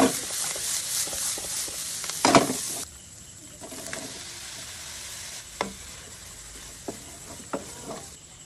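Chili frying in hot cooking oil for spicy squid in coconut milk, a steady close sizzle with bursts of stirring and scraping, louder at first and then settling into a quieter crackle with occasional pops.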